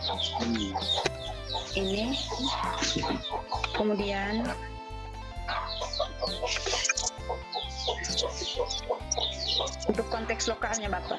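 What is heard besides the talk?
chickens clucking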